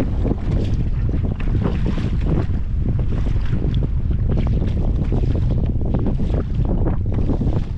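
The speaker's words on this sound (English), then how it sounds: "It's pretty choppy. It's windy too." Strong wind buffets the microphone with a constant roar while choppy waves slap and splash against a fishing kayak at sea over a reef.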